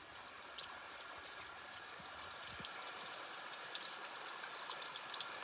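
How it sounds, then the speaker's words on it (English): Warm water runs steadily from a tap while gloved hands are washed with soap in a kitchen, a soft continuous hiss and splatter with faint clinks. "I'm gonna wash my gloves with soap and warm water"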